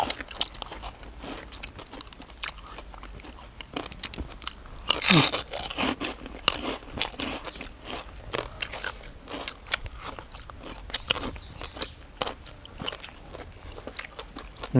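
Crunchy chewing and biting of deep-fried, crispy molting insects, close and fairly loud, with repeated crackly bites throughout and a sharper crunch in the middle, mostly without talk.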